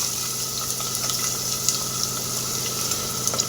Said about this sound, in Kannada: ಈಗ ಆಯಿಲ್ ಹೀಟಾಗಿದೆ. ನಾವು ಉದ್ದುದ್ದಕ್ಕೆ ಹೆಚ್ಚಿಟ್ಕೊಂಡಿದ್ವಲ್ಲ ಈರುಳ್ಳಿ ಸೇರಿಸ್ಕೊತಾ ಇದ್ದೀನಿ ನಾನು